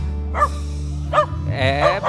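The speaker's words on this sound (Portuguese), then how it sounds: "Tem um cachorrinho aqui, ó." Small dog barking in three short, sharp yaps spaced about a second apart, close by, over a low background hum.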